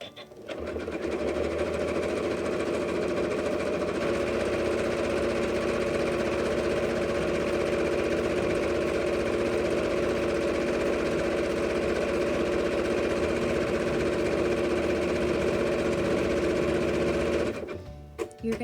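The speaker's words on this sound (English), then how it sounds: "you're going to continue stitching in the same manner, doing the zigzag, connecting the two pieces of rope" A sewing machine zigzag-stitches two lengths of fabric-wrapped rope together while shaping a rope bowl, running in one steady, loud mechanical whir for about seventeen seconds before stopping.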